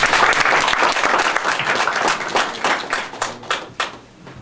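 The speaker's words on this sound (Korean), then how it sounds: "남 교수님께는 한 번 더 박수를 쳐주시면 좋겠습니다" An audience at a book concert claps in a full burst of applause that slowly loosens into scattered, separate claps before dying away, fairly close and with no one speaking.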